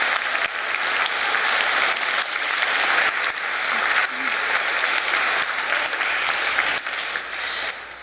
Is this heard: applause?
yes